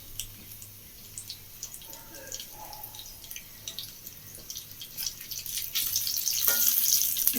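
Mustard seeds, cumin and dried chillies frying in hot oil, a close, steady sizzle with small popping crackles that grows louder and fuller toward the end.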